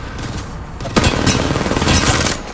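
Gunfire in the video game Apex Legends comes as a dense, loud barrage of overlapping shots and booms, continuous and noisy through the whole stretch.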